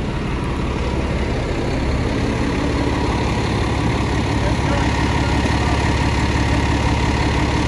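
FDNY fire engine idling at the scene of an e-bike lithium-ion battery fire on a Manhattan street, a steady loud low rumble that continues unbroken throughout, with faint voices in the background.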